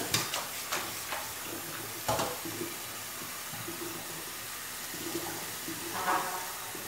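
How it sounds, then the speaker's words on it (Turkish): Running water streams steadily into a bowl of blackberries, with occasional splashes and soft rustling as the fruit is rinsed. "Şöyle hiç elimi sürmeden yavaş yavaş attırarak yıkıyorum."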